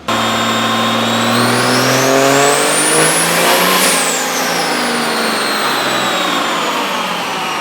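A 750 hp fifth-generation Cummins truck engine revs hard on a dyno, its loud roar climbing in pitch to a peak and then easing slightly while holding high, close and alone.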